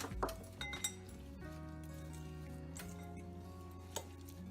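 A utensil stirs beaten egg mixture in a bowl, giving quiet, scattered clinks and taps against the dish over a soft background hum, with a few sharper knocks.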